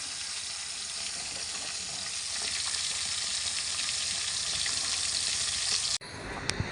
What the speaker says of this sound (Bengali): আমার ছেলে যে মাছ দুটো ধরলো সেই মাছ দুটো ভেজে দিচ্ছি এখন